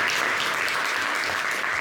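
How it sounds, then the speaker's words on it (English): Steady applause from a meeting audience fills the short stretch, loud and continuous clapping with no gaps. "Please give me a bigger round of applause"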